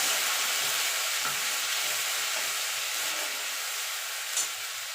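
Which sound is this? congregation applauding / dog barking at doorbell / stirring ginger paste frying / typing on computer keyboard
stirring ginger paste frying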